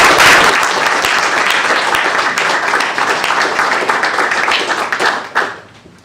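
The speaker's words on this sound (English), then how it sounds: "one more round of applause for our published" A school board meeting audience breaks into sustained applause, dense steady clapping from many hands that holds strong throughout and tapers off at the very end.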